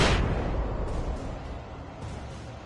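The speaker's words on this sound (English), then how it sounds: "Flashbang out" A flashbang grenade goes off in a video game with a sharp, loud burst at the start that decays into a rumbling tail. Two softer thuds follow later under a lingering background wash.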